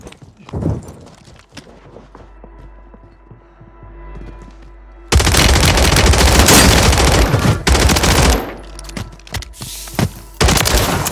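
Dense bursts of automatic gunfire from a Call of Duty Warzone 3 match, starting abruptly after quieter footsteps and ambient sounds, loud and close with rapid rattling volleys and brief pauses.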